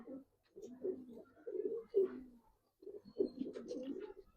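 Old-breed silver Giribaz pigeons cooing close by, a series of soft, throaty rolling coos in two bursts separated by a brief pause.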